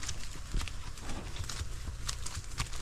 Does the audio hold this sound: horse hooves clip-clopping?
yes